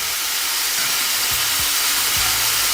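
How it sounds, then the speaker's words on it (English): Steak sears in a hot pan, a dense, steady hissing sizzle filling the whole stretch, with a few faint low thumps underneath. "Just make sure to sear the other side as well now, yeah?"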